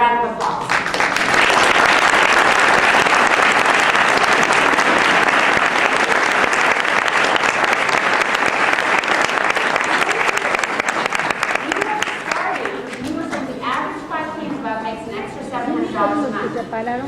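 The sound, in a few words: audience applause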